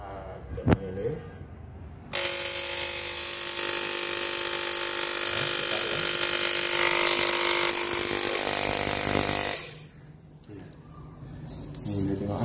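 An electric ticker tape timer starts up and buzzes continuously for about seven seconds, a loud, close, harsh vibrating drone, then cuts off, leaving quieter background noise; a voice speaks faintly around it.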